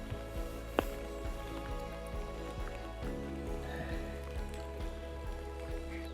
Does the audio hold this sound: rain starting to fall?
yes